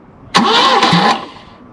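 Volvo 244 car engine cranking and firing up, a short loud burst of starter and engine noise close by that catches for under a second, then fades.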